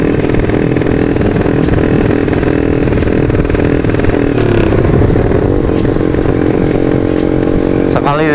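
A loud Yamaha Vixion motorcycle engine, upgraded to 200cc, rumbles and revs continuously, a throaty droning roar with rattling mechanical clatter throughout.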